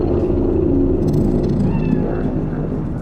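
A cat meows in the video game Cyberpunk 2077, a short, fairly faint call that sits over a loud, steady bed of city ambience and music.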